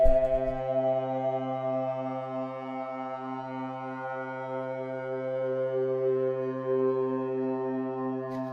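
A sustained, buzzy synthesizer tone through a buzz filter drones steadily with a low, slowly pulsing undertone, harmonically rich but dull at the top, with no voices.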